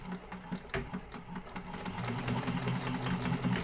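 A sewing machine backstitching a seam on a crossbody bag, a close, steady mechanical whirring hum with quick rhythmic stitching, starting with a few short bursts and then running continuously.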